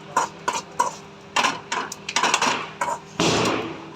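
Roasted ingredients for fenugreek (methi) laddoos are scraped from the pan into a wide plate. Close, irregular metallic clinks and scrapes come in quick bursts, ending in a longer, rougher scrape.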